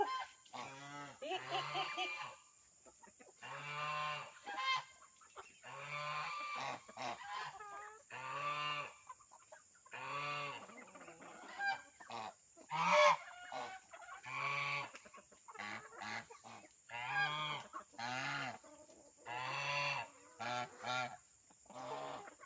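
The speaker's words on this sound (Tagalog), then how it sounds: "Papakain na natin sa manok." Chickens and geese on a farm being fed azolla: a lively run of repeated honks and clucks, close and fairly loud, in irregular bursts over a quiet background.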